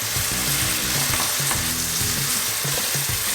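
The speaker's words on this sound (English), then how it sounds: "Put in our chopped onion, turn the heat down and gently soften those onions up." Chopped onions softening over turned-down heat in a pan, a loud, continuous close-up sizzle with stirring movements, no talking.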